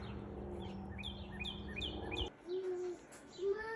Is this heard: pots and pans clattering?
no